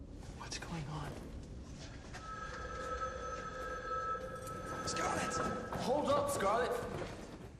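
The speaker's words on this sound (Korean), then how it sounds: "전화를 찾은 스칼렛은 조심스레 받아보는데" A telephone rings in short electronic bursts amid a tense, murmuring background, with faint voices and shuffling movement.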